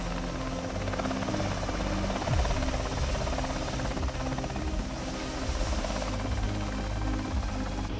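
An NH90 twin-engine military helicopter's engines and rotors drone loudly and steadily throughout, a constant heavy whine and thrum from close by.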